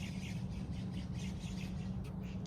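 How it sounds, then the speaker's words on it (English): Birds squawk and call repeatedly in a garden, faint and somewhat distant, over a constant low background hum. "You can hear the birds"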